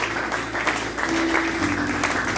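A church congregation at Sunday worship applauds in a dense, steady wash of clapping that fills the whole moment, with a faint voice or tone held underneath.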